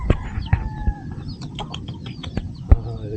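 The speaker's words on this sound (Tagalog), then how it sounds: "Ibon sisiw." Chicks and small fowl peep and cluck at an outdoor hillside viewpoint, with a quick run of bright, high chirps and a few sharper clucks up close over a steady rustling background.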